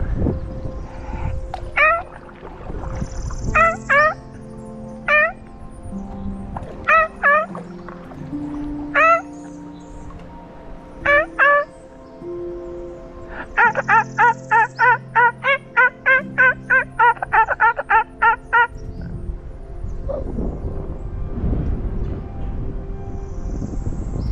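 A person vocally imitates an ivory-billed woodpecker call, giving loud nasal toots in spaced pairs and then a fast run of repeated notes, close to the microphone over a low background rumble.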